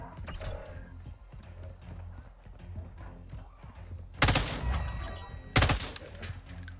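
Magazine change in Call of Duty Modern Warfare 2 (2022): a run of small mechanical clicks and rattles at close range, with two loud sharp gunshots cutting in near the end over steady game background.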